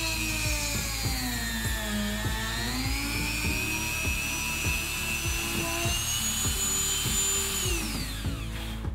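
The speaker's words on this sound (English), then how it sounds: "For this hole, I used the largest drill in my Dremel line." A Dremel rotary tool fitted with a large drill bit bores a hole in leather, giving a steady high-pitched whine that dips and rises in pitch, then winds down at the end.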